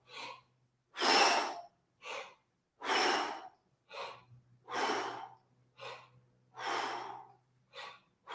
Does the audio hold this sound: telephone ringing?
no